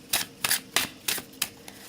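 Thick cardstock oracle cards being shuffled, giving five or six brisk papery riffles and flicks at an even pace, close and fairly quiet with no talking.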